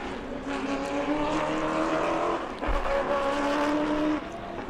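A Pro Late Model race car laps the track at New Smyrna during qualifying, its engine roaring loud and steady with a brief dip in the middle before surging again.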